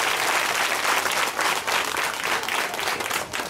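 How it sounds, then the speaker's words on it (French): Applause from a crowd of students at a school cultural week event, steady and dense throughout with no speech over it. "Acclamez pour lui."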